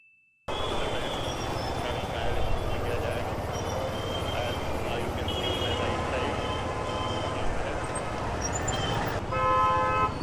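Dense street traffic in the narrow lanes of old Jaipur roars steadily as car horns toot repeatedly, some near and sharp, others farther off, with a voice briefly heard over the din.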